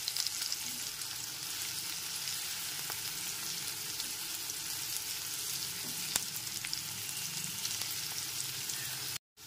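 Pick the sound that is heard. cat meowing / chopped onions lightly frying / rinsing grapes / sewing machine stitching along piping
chopped onions lightly frying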